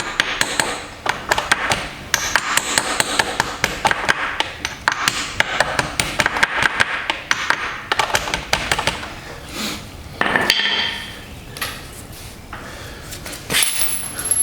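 Light hammer taps on the 15-tooth front sprocket of a 2020 Yamaha R1 motorcycle give a quick series of close, sharp metallic knocks in short irregular bursts, followed by a few scattered clanks.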